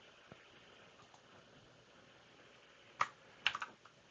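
Keys on a computer keyboard tapped quietly, a soft tick early on and then a short cluster of sharper keystrokes near the end over a low background hiss.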